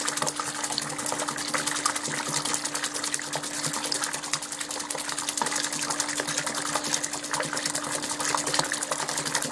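Fresh beer wort, cooled to 23 degrees on a brew day, is sloshed and splashed continuously to aerate it, a loud, busy churning of liquid that runs without pause.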